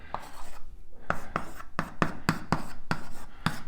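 Chalk taps and scratches on a board as equations go up in a cosmology lecture, quick rhythmic strokes with short pauses, close and clear with no talking.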